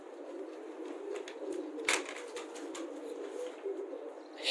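Ornamental pigeons cooing softly in low repeated calls, with a few brief rustles and wing or cage knocks nearby.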